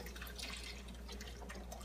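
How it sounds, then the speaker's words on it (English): Four cups of low sodium organic vegetable broth pour into a pot of stirred peas over high heat, making a quiet, steady liquid rush with faint splashing throughout. "I'm going to go ahead and add my vegetable broth."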